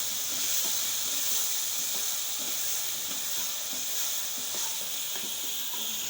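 Keema with capsicum, salted and with tomatoes, sizzles in a pan as it is mixed, a soft, even hiss continuing throughout.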